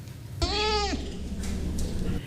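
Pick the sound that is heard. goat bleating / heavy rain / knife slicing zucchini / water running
goat bleating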